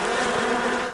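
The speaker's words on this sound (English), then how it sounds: "We do have a lot of bee sound, is what Tim's getting at." A bee buzzing sound effect, a steady, loud, close drone that holds on its own for under a second with no speech.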